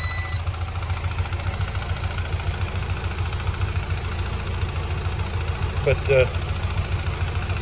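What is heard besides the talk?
Ford Ranger engine idling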